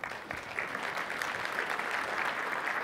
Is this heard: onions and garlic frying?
no